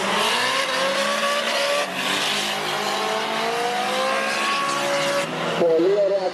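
Cars accelerating hard down the strip at a drag racing event in Agrinio, a loud, sustained engine howl with climbing revs, while a commentator talks over it.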